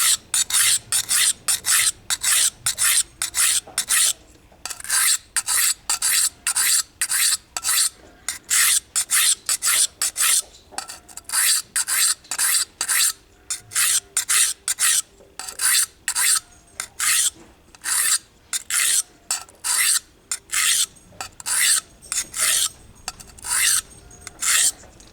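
A blade is sharpened on a diamond stone in steady, rapid back-and-forth rasping strokes, close and loud. The strokes come in regular bursts with brief pauses between sets. No voice is heard.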